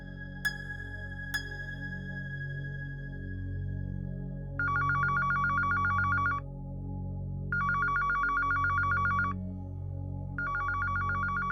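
A telephone rings in repeated bursts of an electronic trill, loud and close, over a low steady hum, with no one speaking.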